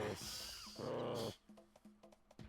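A beaver enemy in the video game Donkey Kong 64 lets out a harsh, rumbling growl, followed by a few shorter clipped growls and grunts, all loud and near.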